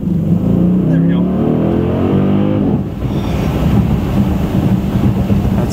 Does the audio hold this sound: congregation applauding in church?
no